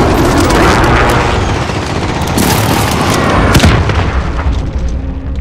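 Airstrike explosions from the Call of Duty: Modern Warfare video game erupt as a dense, continuous barrage of loud booms and blasts, rumbling heavily throughout with sharp impacts layered on top and no speech.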